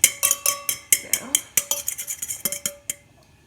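Flour and salt being stirred in a bowl, a quick run of bright scraping clinks of a utensil against the bowl, about a dozen strokes close up, fading out at the end.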